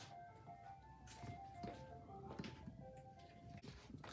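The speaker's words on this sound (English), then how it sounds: "we had to pause because the ice cream truck came" A faint ice cream truck melody plays in the distance, with its tones drifting under low background noise and a few thumps.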